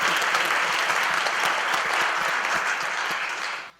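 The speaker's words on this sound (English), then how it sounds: "let's have another round of applause for Amy Capigioni" A live show audience gives a sustained round of applause, dense clapping from a large crowd holding steady at full volume and then fading away at the end.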